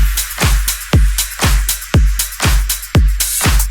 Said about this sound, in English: And all together, the drums sound like this.